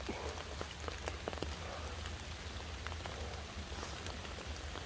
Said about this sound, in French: La pluie accélère un peu, on dirait.